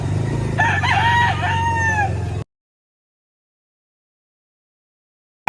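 A Sweater Kelso gamefowl rooster crows once, loud and close, a drawn-out cock-a-doodle-doo over low background noise, followed by sudden silence.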